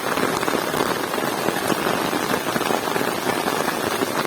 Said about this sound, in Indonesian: Hujan terus banget.